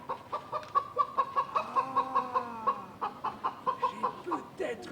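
Hens cluck in a farmyard, a steady run of short rhythmic clucks close by with a few longer squawking calls layered over them.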